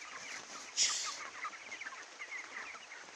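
Soft clucking from a few 23-day-old broiler chickens on a poultry farm, with a brief louder squawk near the start, over a steady farmyard hum.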